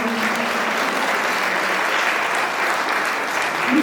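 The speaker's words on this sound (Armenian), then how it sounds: "Ծափահարեք սիրելիները" Sustained applause from an audience fills the whole stretch, dense and steady clapping at close range with no pause.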